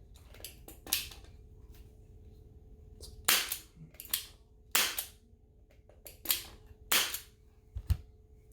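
A cheap airsoft revolver fires a series of sharp, snappy pops at an irregular pace, about eight shots spread over several seconds, close by and crisp against a quiet room.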